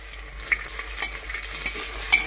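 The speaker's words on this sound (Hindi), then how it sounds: "प्याज डाल देंगे दोस्तों, जिसे रफली मैंने काट के रखा हुआ था।" Roughly chopped onions fry with garlic and whole spices for a chicken curry, giving a steady, close sizzle with stirring scrapes and small pops throughout.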